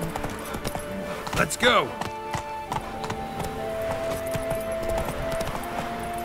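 Roach the horse trotting in The Witcher 3, a light rhythmic clip-clop of hooves under a shouted line and steady ambient hum, fairly quiet and continuous.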